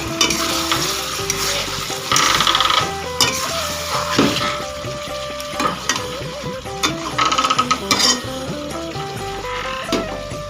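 Masala being stirred in a pan after a little sugar goes in, for a rohu fish curry with ridge gourd and potato: loud scraping stirs with clanks over a steady sizzle, close up, no talking.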